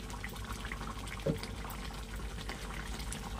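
A pot of steamed hilsa fish cooked with raw mustard oil simmers to a boil, giving a steady low bubbling rumble with one brief louder pop, close by and without talk.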